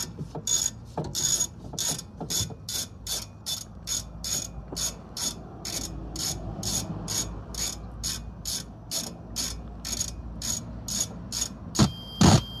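A ratchet working a 7mm hex bit on the lower rear brake caliper slider pin of a 2009–2013 Mazda 3, giving a close, even series of rapid clicks that stops near the end.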